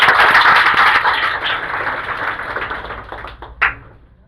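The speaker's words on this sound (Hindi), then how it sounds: "उनके लिए जोरदार ताली बजाएं।" An audience claps for successful students at a 10th class results event, a dense burst of applause that starts full and gradually fades out over a few seconds, ending with a last stray clap.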